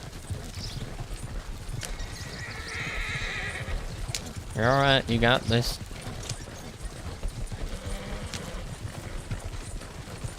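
A horse in Red Dead Redemption roleplay gameplay gives a loud, clear whinny midway, with hoof clip-clops and steady ambience around it while people talk.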